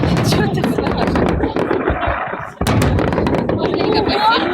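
Firework salute bursts during a Victory Day display in Voronezh, a rapid run of loud booming cracks with a brief lull midway, while nearby voices talk excitedly throughout.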